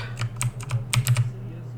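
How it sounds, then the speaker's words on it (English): Rapid, uneven clicks from typing on a loud mechanical computer keyboard during a Cities: Skylines game session, close and sharp over a steady low hum, with no talking. "I have a mechanical keyboard that sounds like I'm beating a tin can with a hammer every time I touch a key"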